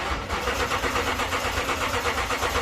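A 2012 Toyota Tundra engine cranks without starting, a rapid rhythmic churning of the starter close by and continuous through the whole short stretch.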